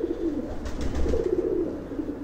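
Pigeons coo softly and repeatedly nearby, low rolling calls overlapping with one another.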